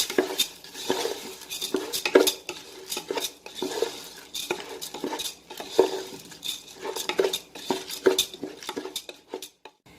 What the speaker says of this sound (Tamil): கொஞ்சம் நெய்யில் நம்ம கிளறி எடுக்கலாம்.